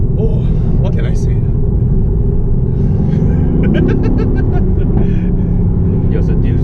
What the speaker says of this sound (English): This is the magic of internal combustion engine.